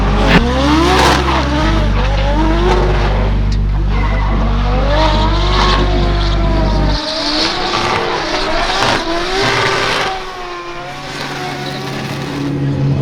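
A Toyota GR86 on a drifting run at a Formula Drift-style practice session in California, tires squealing and engine revving loudly and steadily up close, with loud music playing over it throughout.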